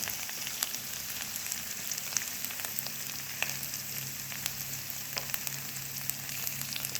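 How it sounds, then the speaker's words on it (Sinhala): Okra frying gently in oil, a continuous fine crackle and sizzle with scattered sharper pops, steady and close throughout with no voices. "මේ ටික යාන්තමින් බැදෙනකන්"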